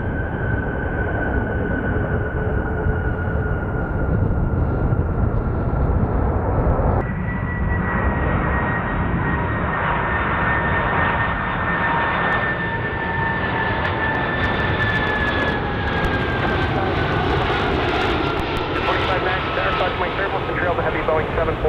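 A Delta jet airliner takes off at Chicago O'Hare, its engines a loud, continuous roar with a rising whine that holds steady through the whole stretch, with radio voices talking underneath.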